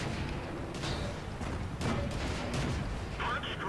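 Tank shell hitting and penetrating enemy armour in the World of Tanks video game, a heavy booming impact amid rumbling battle noise, with voices talking over it.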